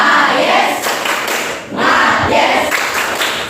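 A class of students does a rhythmic spirit clap together in a classroom, a dense run of hand claps and thumps that briefly dips mid-way and then resumes, fairly loud and close.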